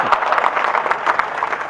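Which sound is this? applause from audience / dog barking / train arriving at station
applause from audience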